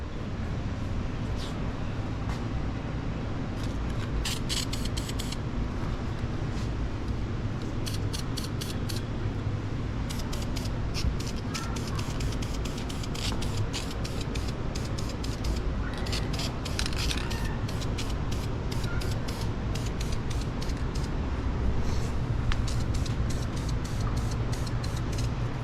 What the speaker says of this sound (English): Clear spray is pretty different. It sprays very wet.